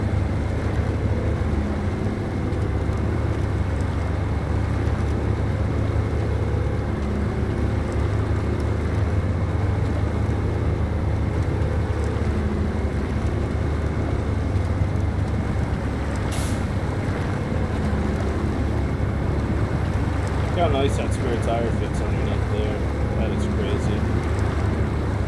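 ANK MK38 M181 Edition Puma military truck in SnowRunner, driving in automatic with a steady low engine drone and rumbling, a brief hiss and a few clanks late on.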